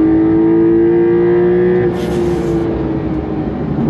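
A 2023 Porsche 911 Carrera T accelerates hard in first gear. It gives a loud, close, sustained engine drone that shifts midway, with a brief sharp burst that could be a tire chirp.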